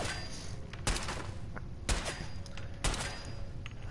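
Gunshots in Fallout 4's Nuka-World, three sharp separate reports about a second apart over a steady background of game ambience.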